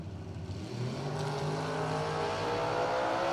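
Drag race cars at a radial tire event launch side by side, engines roaring loud and rising steadily while tires spin, a dense continuous blast of engine noise with no talk over it.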